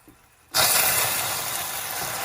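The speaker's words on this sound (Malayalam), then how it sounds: "ഇതിലേക്ക് തന്നെ തണുത്ത 1/2 ഗ്ലാസ് വെള്ളം ഒഴിക്കാം" Cold water poured into hot caramelized sugar in a pan bursts into a loud, sudden hiss that stays strong and steady, close and alone after a quiet start.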